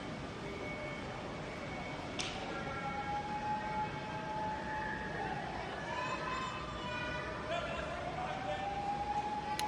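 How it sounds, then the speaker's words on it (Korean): Fire truck and ambulance sirens wail, rising and falling over a steady rumbling background at a severe building fire, with a faint voice talking underneath, sounding moderately distant. "막 소방차 오고 있고 구급차 오고 있고"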